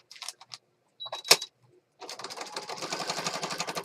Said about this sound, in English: my goal is to sew over the elastic to help keep it in place